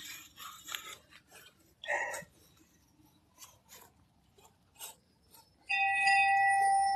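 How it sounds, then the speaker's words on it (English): A dinner bell on a farm rings out clearly near the end, following several seconds of soft rustling, pattering and scuffing sounds close by. "Oh, that's the dinner bell."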